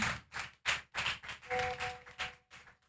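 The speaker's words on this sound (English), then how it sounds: "Let's clap for him." An audience at a real estate sales training session claps for a guest, giving a steady run of sharp, rhythmic hand claps at a moderate distance with no talking over them.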